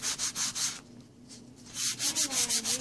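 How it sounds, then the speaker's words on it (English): A wooden arrow sign being scrubbed to knock off its sheen, a steady run of close, loud rubbing strokes with a short quieter pause in the middle before the scrubbing resumes. "If I see any shine, I scrub it off."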